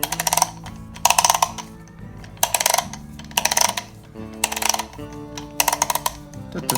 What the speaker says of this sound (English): we're going to put this little clicker, start screwing that on